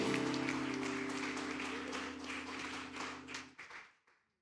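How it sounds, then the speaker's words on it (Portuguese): Church congregation applauds during a service, a dense wash of clapping over a sustained organ or keyboard chord, tapering into scattered claps and fading out near the end. "Dê um aplauso bem alto pro Senhor Jesus."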